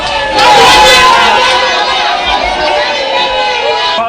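A dense crowd at Sokodé's grand market gathers around an MCD election candidate, loud chatter and babble with scattered cheers and shouts filling the space continuously.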